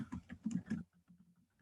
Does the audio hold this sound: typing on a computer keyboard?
yes